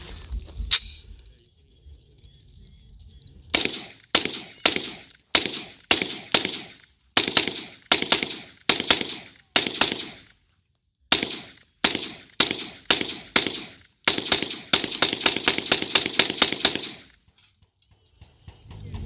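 A rifle fires a full magazine: dozens of sharp, loud shots in quick irregular strings with short pauses, ending in a rapid flurry before falling quiet.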